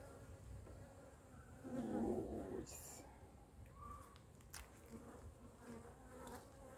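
Small honey bees buzz steadily around an opened beehive whose heavy frame is packed with syrup, a dense close hum with faint murmuring voices and light handling noises mixed in.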